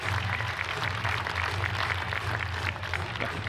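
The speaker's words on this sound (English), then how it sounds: "It's hard to receive applause for that" An audience applauds a speaker with continuous, fairly faint clapping under a low room murmur, steady throughout with no voices standing out.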